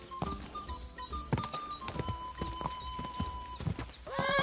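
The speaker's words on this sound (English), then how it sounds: "El caballo de mierda." Horse hooves clip-clop in the video game Kingdom Come: Deliverance II, brisk close hoof strikes with a brief whinny among game sounds and faint tonal effects, no voice over them.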